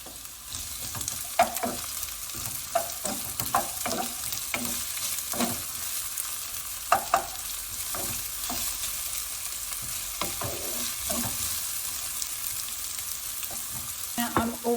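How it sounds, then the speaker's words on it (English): Onion fries in heated extra virgin olive oil, a continuous close sizzle with frequent stirring scrapes and bursts of crackle, steady and unbroken with no talk. "When that heats up, we'll add the onion."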